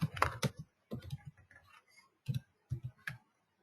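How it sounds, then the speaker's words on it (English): Typing on a computer keyboard, close clusters of quick key clicks in short bursts separated by brief pauses. "I'm typing the command right now."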